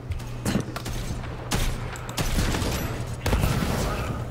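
Rapid bursts of gunfire and shotgun blasts in the Borderlands 3 video game, dense and continuous, punchy shots layered over game noise, with faint talk underneath.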